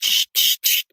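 A voice imitates a spray can hissing, three short, bright, airy bursts in quick succession, close and loud, with brief silences between them.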